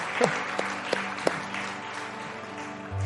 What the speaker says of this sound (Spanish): ¿Quiere aplaudir? Aplauda con ganas.